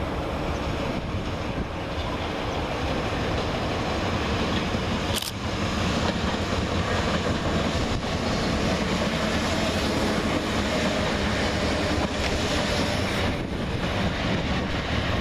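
South Western Railway triple-header of class 456 and 455 units running from Guildford toward London Waterloo, a steady broadband rumble and rush of wheels on rails with wind buffeting, heard up close for about fifteen seconds without talk.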